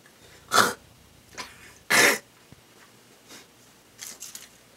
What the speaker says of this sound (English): just trying to clear my throat so I can talk